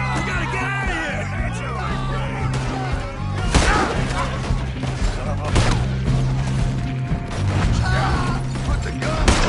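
Gunfire in Red Dead Redemption 2, several sharp loud shots scattered irregularly over a busy backdrop of music, shouting voices and mechanical clatter.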